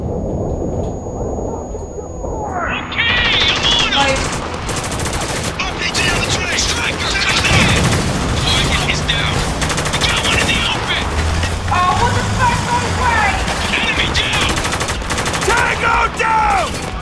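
Gunfire in the Spec Ops video game combat: a quiet lead-in gives way to continuous heavy bursts of automatic fire and explosions, loud and dense throughout, with shouting voices mixed in.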